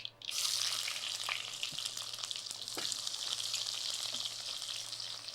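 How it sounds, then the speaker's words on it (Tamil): Onions sautéing in oil, a bright, steady hiss of frying starting abruptly and continuing evenly, with a faint low hum and a couple of small utensil taps. "வெங்காயம் கொஞ்சம் நல்லா வதங்கட்டும்"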